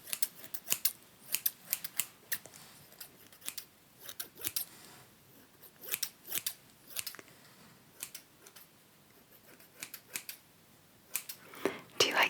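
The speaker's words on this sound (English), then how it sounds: "Do you like scissor sounds? Do you like the sound of scissors?" Scissors snip close to an ASMR microphone in crisp, irregular bursts of sharp clicks, some single and some in quick clusters, separated by quiet pauses; soft whispering is present between cuts.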